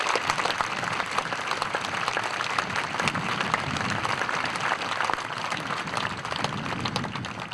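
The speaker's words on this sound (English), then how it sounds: "Let's give the Torrance High School Association student body a round of applause." Steady, loud audience applause rises for the Torrance High School student body at a community celebration in Torrance, California, a dense wash of clapping hands that holds evenly throughout with no speech over it.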